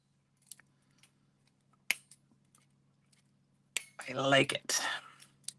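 Scissors snip paper card for a crafting project in a few sparse, crisp cuts between quiet stretches, then a voice speaks briefly near the end.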